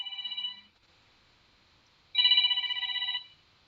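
A telephone rings with electronic bell-like tones, two bursts separated by a short pause, close and clear with no talking.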